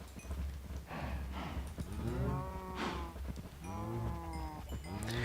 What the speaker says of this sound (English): as you can see, I've been breeding some cows.